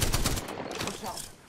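Burst of rapid video game gunfire during a fast multiplayer match, loud and dense for about half a second and then trailing into a rattling decay.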